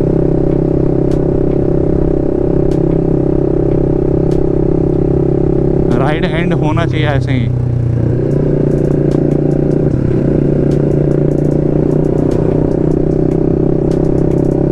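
BMW G310 RR motorcycles fitted with aftermarket exhausts idle and cruise with a loud, steady engine drone throughout, a brief rattling clatter rising midway, while someone talks over the engine noise.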